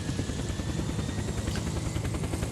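A helicopter in the video game Unturned drones with a continuous loud rotor chop and engine whine, steady and close throughout with no change in pitch.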